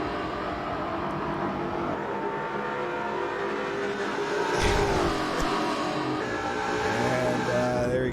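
Race cars in the Forza racing video game roar along toward the start-finish line, with engine whine and revving layered throughout and a brief louder burst midway, steady and fairly close.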